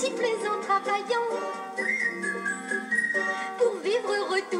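Whistled melody in a French song from Snow White and the Seven Dwarfs, with bright tuneful phrases over a light accompaniment.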